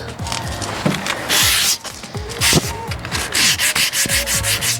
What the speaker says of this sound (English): I'm just gonna sand it all by hand, so we'll see how that goes.